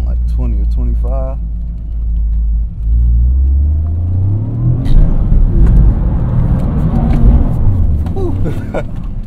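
Toyota GR Corolla engine rumbling loud and close, then revving up as the car launches off the e-brake, the roar building and rising in pitch, with someone talking over it at the start.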